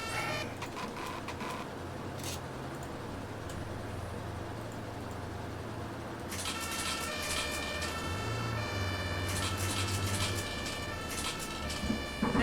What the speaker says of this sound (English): Oh, that damn siren.